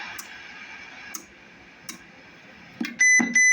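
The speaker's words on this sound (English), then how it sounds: "Roger beep works for those that care about that." A short CB radio roger beep tone on a Connex Saturn CX-33 SSB base radio near the end, sounding twice in quick succession after a few faint ticks and clicks, fairly quiet and close.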